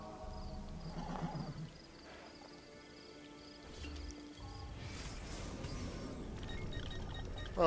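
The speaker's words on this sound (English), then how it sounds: "all of a sudden, there's a horse!" Horse neighing in the Assassin's Creed Brotherhood video game, a faint whinny amid quiet game sounds with scattered thuds and a louder burst toward the end.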